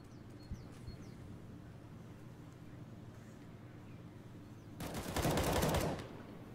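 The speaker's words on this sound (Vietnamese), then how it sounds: "Bây đấu súng với Lucas còn cho mình 2 máu, may mắn chạy về." Counter-Strike gunfire on the de_inferno map during an ESL Pro League match, a rapid automatic burst of shots near the end over a low, steady background of game ambience.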